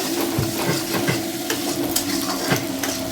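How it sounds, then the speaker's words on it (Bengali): A single egg fries in a pan for a Maggi noodle recipe, with a steady close sizzle broken by the scrape and tap of a spatula stirring at a regular pace. "ডিমটাও দিয়ে দিয়েছি এখন দুটো দিইনি ডিম একটাই দিয়েছি এখন ভালো করে ভেজে নেব"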